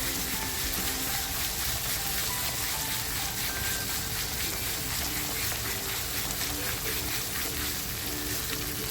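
Masala spice paste fries steadily in oil in a pan for a Konkani wet cashew usal, a dense continuous sizzle with faint stirring, close and constant throughout.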